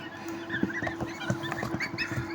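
Newly hatched goslings fresh from an incubator give thin, high peeps, repeated in quick overlapping bursts over a steady low hum.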